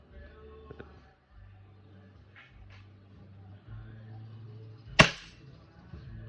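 A custom Tokyo Marui Hi-Capa airsoft pistol fires a single 0.2 g BB through a chronograph, one sharp, close crack standing out over a low background hum.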